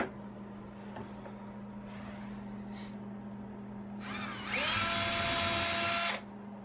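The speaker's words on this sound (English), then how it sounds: "you want to drill and put these in?" A power drill drives screws into cabinet doors inside a bus conversion, with a few short whirring bursts and then a louder, sustained high whine near the end over a steady low hum.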